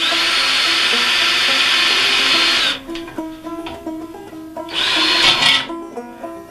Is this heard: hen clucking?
no